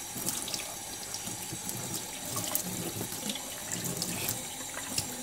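Tap water running steadily over a Japanese natural sharpening stone being rinsed, a close continuous splashing hiss with small spattering variations, no speech.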